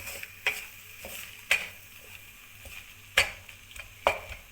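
Gram flour and maida dry-roast in a pan for laddoos, quiet apart from a few sharp spatula knocks and scrapes spaced about a second apart over a soft background.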